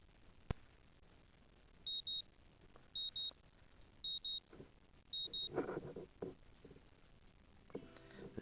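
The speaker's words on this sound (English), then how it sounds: "The sound of my alarm is an unwelcome intrusion on a sleep that's been a battle to obtain." An alarm clock in the visual novel game Katawa Shoujo beeps in four short, evenly spaced bursts of high electronic tones, clear against a quiet background with a faint thump just before.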